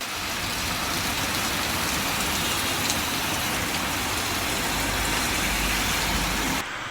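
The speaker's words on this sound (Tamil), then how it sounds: "சிவகங்கை மாவட்டம் சிங்கம்புணரி பகுதியில் 1/2 மணி நேரத்திற்கு மேலாக பரவலாக மழை பெய்தது" Heavy rain pouring onto a road in Singampunari, Sivaganga district, Tamil Nadu, a dense, loud, continuous hiss with a faint vehicle rumble beneath it.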